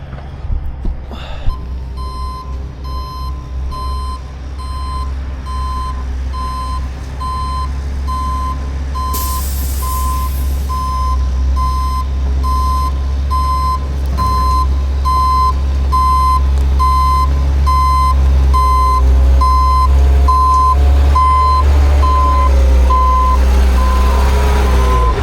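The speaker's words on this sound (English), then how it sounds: "Now I'm gonna back my truck up as far as I can, and we're just gonna start dumping the gravel right here." A truck backing up to dump gravel, its reversing alarm beeping in a steady even rhythm over a loud idling diesel rumble that grows heavier near the end.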